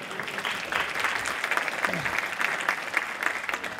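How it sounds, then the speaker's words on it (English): An audience at a conference opening session gives a round of applause, sustained clapping with a few louder bursts and some voices or a brief whoop underneath. "Give him a round of applause."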